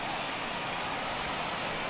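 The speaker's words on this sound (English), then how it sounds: "the conditions aren't ideal with the rain coming down" Steady rain falls on the field during a Mets versus Nationals baseball game, a constant even hiss with no talk.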